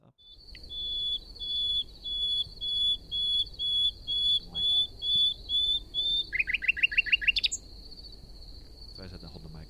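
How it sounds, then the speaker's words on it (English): Recorded birdsong played back through a small speaker: a series of high, clear whistled notes repeated in a steady rhythm, then a quick burst of rapid chirps, over a faint steady hiss. "So this is just a really simple thing, birdsong, and it's triggering this little level thing."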